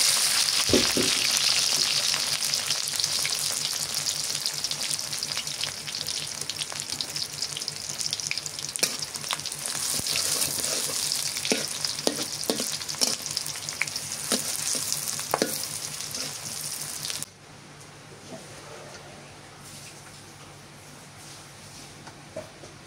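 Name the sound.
beef curry with spices frying in a pan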